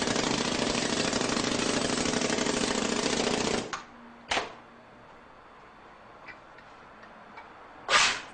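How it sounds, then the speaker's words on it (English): A pneumatic air rammer compacts moist, clay-bonded foundry sand in a casting mold, giving a loud, steady, rapid hammering for several seconds. It stops abruptly, and a few brief air bursts and faint clicks follow. "He uses an air rammer to compact the sand."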